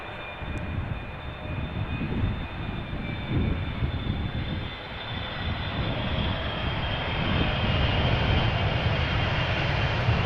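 A KLM Boeing 777 arriving at Amsterdam Schiphol Airport in crosswind, its engines a steady, fairly close roar that swells slightly toward the end, with no talk.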